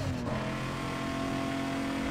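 Race car engine held at full throttle in the video game Need for Speed Carbon, a loud sustained high-revving drone with steady pitch, close and continuous.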